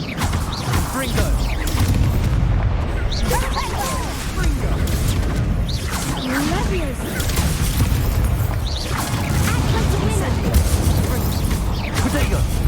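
Confringo explosion spells going off in Hogwarts Legacy combat, repeated crashing booms and smashes amid continuous battle noise and in-game voices.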